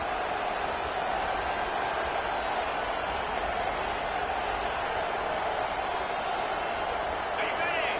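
Steady, dense roar of a football stadium crowd during a game, a constant wash of massed voices and noise with no pauses, loud and even throughout.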